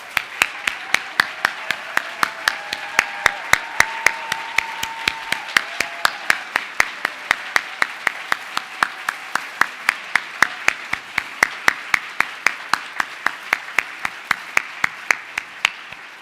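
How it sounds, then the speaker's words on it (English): Applause for award finalists at a National Book Critics Circle Awards ceremony comes as a steady, even series of sharp claps, evenly spaced and sustained, with faint voices underneath. "Can I ask if all our finalists can stand so we can applaud you one more time"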